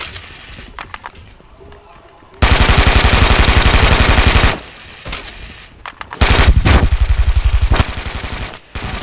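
Bursts of automatic gunfire in the Brink shooter game come in loud, rapid rattling volleys, two long sustained streams separated by quieter stretches of scattered shots and game noise.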